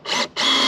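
Power drill driving a screw into wood while building an outdoor table, two quick close bursts of whirring motor with a brief pause between them.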